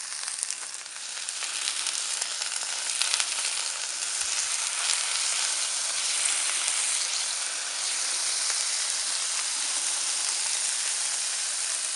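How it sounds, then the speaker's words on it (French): Marinated shrimp skewers laid in hot oil on a plancha, giving a loud, steady, close sizzle that hisses on without pause. "Mon huile est chaude, je vais pouvoir mettre mes brochettes."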